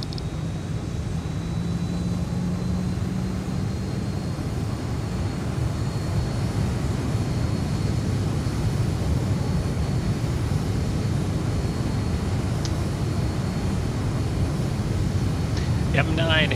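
Boeing 737 jet engines idling and taxiing in the X-Plane 11 flight simulator, a steady low rumble that holds at even loudness throughout, with a faint high whine above it.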